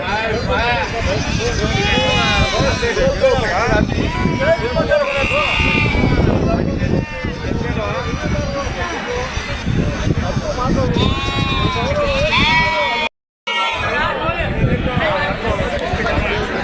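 Goats bleat repeatedly in wavering calls amid a busy crowd of overlapping voices at a weekly goat market in Kunta, Ongole district, with steady bustle throughout.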